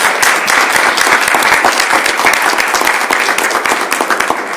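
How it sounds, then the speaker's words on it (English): Loud, sustained applause from the audience fills a school board meeting room, dense steady clapping close by with no talk over it, holding for several seconds. "I feel like we need to applaud."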